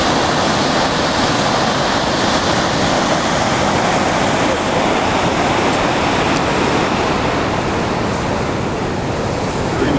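A waterfall in Yosemite flows strongly, a dense, constant roar of rushing water filling the whole clip without pause.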